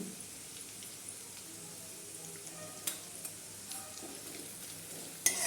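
Green chillies frying in oil in a pan, a steady soft sizzle throughout with a few faint clicks and a sharper tap near the end as turmeric goes in, quiet and close.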